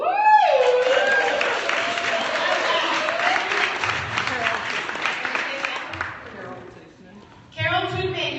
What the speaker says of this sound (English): you guys give a big round of applause